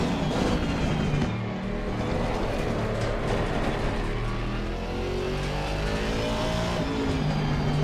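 Car engine in the racing game Forza Horizon 6, a loud, continuous revving drone with rising and falling pitch as the car accelerates, steady throughout with no talk.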